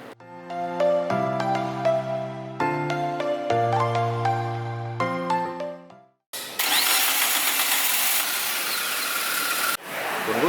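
Music plays first, then a Suzuki Karimun car engine turns over and settles into a loud, steady idle at close range.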